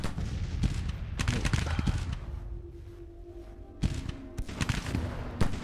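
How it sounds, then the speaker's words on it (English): Artillery bombardment in the Grand Tactician Civil War strategy game, heard as a cluster of booming cannon shots with crackling volleys, a quieter lull, then another round of blasts. "So we're gonna bombard this area right here."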